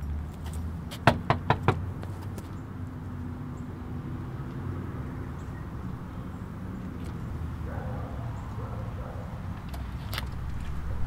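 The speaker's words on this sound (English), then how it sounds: "Just knock on the door." Four quick knocks on a house's front door sound sharply and close together early on, followed by quiet outdoor ambience with faint distant sounds.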